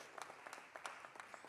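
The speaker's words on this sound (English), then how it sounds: "Yes, clap for Stuart, clap for our faculty." A graduation audience claps for faculty, scattered distinct hand claps sounding faint and somewhat distant in a large room.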